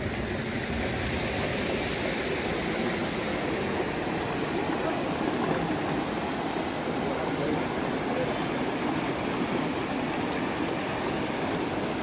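River water rushing past Rocky Island at Lataguri, a dense continuous broadband roar of flowing water, steady and loud with no breaks throughout.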